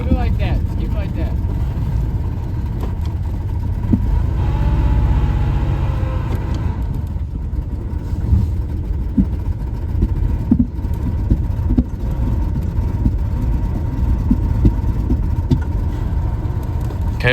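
A 1993 Oldsmobile Cutlass Ciera engine running loud and steady with a deep continuous rumble while the car is put in reverse, a voice speaking briefly over the drone.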